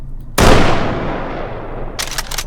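A single sharp gunshot at a target in the VR shooter H3VR, loud and close with a decaying tail, followed by a quick burst of clicky mechanical handling sounds.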